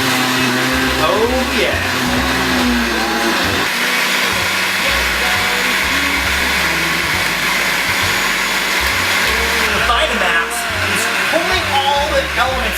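A blender runs on high, blending apple acorn squash soup with a loud, sustained motor whir that shifts in pitch as the load churns, while someone speaks briefly over it.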